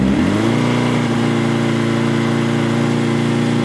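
Honda CB DOHC motorcycle engine rising from idle to a higher steady rev, a loud close mechanical drone that climbs in pitch in the first half second and then holds evenly, no speech.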